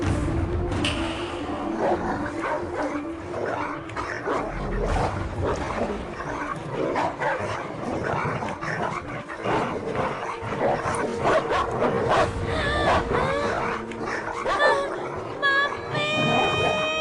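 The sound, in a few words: dogs barking, set loose on a child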